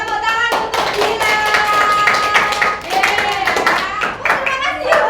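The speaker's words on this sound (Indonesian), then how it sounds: "tepuk tangan untuk Dina" Children and a teacher clap for a student after a classroom poster presentation, loud, brisk clapping mixed with overlapping young voices and chatter close by.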